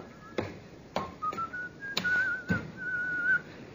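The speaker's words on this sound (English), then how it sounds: "that fellow there, whistling" A man whistles a wavering, tuneful line of short and sustained notes, with a few sharp knocks and thumps scattered through it.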